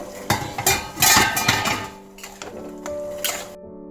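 A spatula stirs an egg and gram flour curry in a metal pan with loud scraping clatter, then a lid clanks down over it, a ringing metallic knock near the end before sudden silence.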